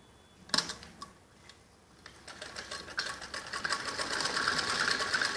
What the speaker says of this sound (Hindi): ऐसे ही हम ऐसे कच्ची सिलाई लगा देंगे इसके लिए